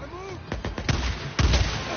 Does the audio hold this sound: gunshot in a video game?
yes